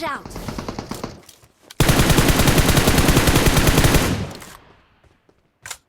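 Automatic gunfire in the mobile game PUBG Mobile rattles in a long, loud, rapid burst after a shorter opening volley, ending with a single late shot, all close and dense.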